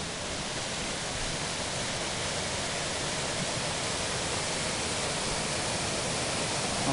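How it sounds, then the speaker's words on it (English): A waterfall pours into a pool on the Chattooga River at Pigpen Falls, a constant broadband roar of rushing water, loud and steady throughout with no other sounds. "There's a beautiful waterfall with a pool over here."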